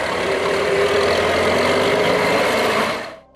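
A John Deere 4020 tractor engine idles with a steady, even low rumble and mechanical chatter, close and constant, before cutting off abruptly near the end.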